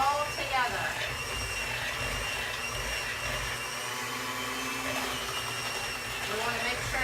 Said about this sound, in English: This is called the mixer, and it's mixing the cream cheese and the butter all together.